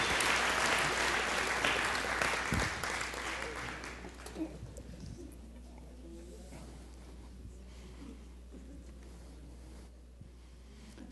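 Audience applause at a religious gathering, dense clapping that rises loudly for a few seconds and then thins out into a quieter room with scattered faint sounds.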